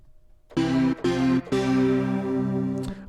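Custom synthesized key sounds made in Keytone, heard as three sustained, tonal notes with a sharp attack and a slightly synthetic quality, separated by brief gaps and then one longer held tone, loud and close.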